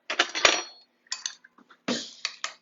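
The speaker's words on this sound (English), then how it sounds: "I'm going to stir this up." Chicken fajita mixture stirred in a pan, a spoon scraping and clinking against the metal in short bursts with brief pauses between strokes, close and clear with no talking.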